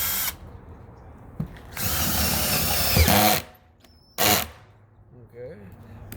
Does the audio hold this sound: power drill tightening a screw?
yes